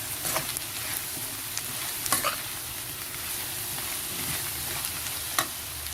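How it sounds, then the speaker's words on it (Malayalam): Fenugreek seeds stirred into garlic pickle in a pan, a continuous low sizzle with soft, irregular scrapes and clinks of the spoon, close and fairly quiet, no voices. "ഇനി ഇതിലേക്ക് കുറച്ച് ഉലുവ ചേർക്കാം. എന്നിട്ട് നന്നായി ഒന്ന് ഇളക്കുക."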